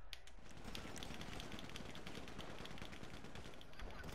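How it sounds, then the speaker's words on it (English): Rapid, continuous automatic gunfire from Grand Theft Auto V, with dense bursts of overlapping shots filling the full four seconds at a steady, loud level. "Oh, straight gunplay."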